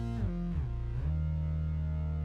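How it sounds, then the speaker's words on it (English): Buzzy, distorted low synth bass from an Arturia CS-80 emulator, with gliding, sliding notes that settle into a steady sustained tone, loud and continuous with no voices. "For the bass, I used the Arturia CS80 emulator with a nice buzzy low sound."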